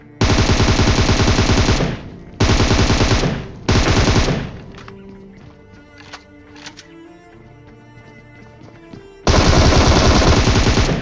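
Loud, sustained automatic gunfire from a video game shooter, fired in three close bursts at the start, a quieter stretch of scattered game sounds, then another long burst at the end.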